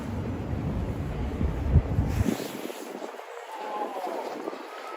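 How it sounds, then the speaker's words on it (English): Strong wind buffets the microphone outdoors on a New York City street with heavy low rumbling, then eases off into a lighter, steadier gust. "it is way too windy"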